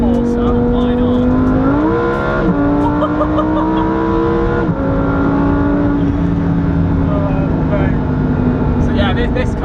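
Lamborghini Huracan Performante engine in Corsa mode, a loud steady drone rising in pitch in steps as the car accelerates through gears, heard from inside the cabin with someone talking over it.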